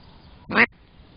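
A single loud, close quack from a mallard duck answering a duck call, standing alone against a quiet outdoor background.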